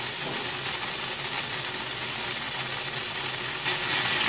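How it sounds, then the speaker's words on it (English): A waste oil burner built for a foundry blasts air at full force, making a loud, continuous hissing roar that holds steady throughout and rises slightly near the end. "We'll turn the air on. There's the air, full blast."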